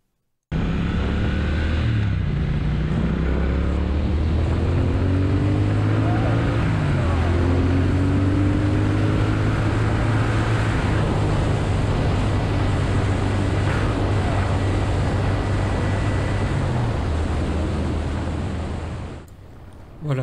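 Triumph Speed Twin 1200 motorcycle engine and exhaust on a country road, a deep throbbing parallel-twin note rising and falling through gear changes, loud and close, with wind rush over the engine.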